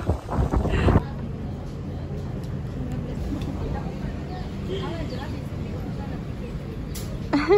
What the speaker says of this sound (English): very windy also.